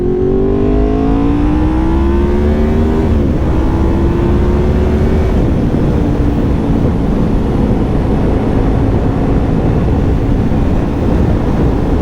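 A Honda VFR 750 motorcycle engine on the move, loud and close, pulls with a rising drone that drops at a gear change, then holds a steady hum over constant wind rush.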